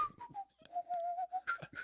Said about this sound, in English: I just started whistling